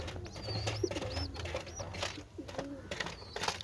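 Pigeons at a bird seller's stall give soft, quiet coos, with a few thin chirps mixed into a low background murmur.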